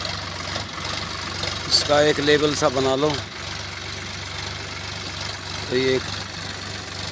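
A tractor engine idles with a steady low rumble while dragging a spreader behind it to scatter dung manure over a field. Someone speaks over it partway through.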